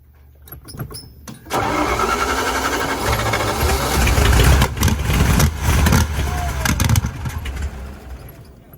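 A Tucker Sno-Cat tracked snow vehicle being recovered off road cranks and fires, its engine catching after a few brief clicks and then running rough and loud with uneven surges, while people talk over it.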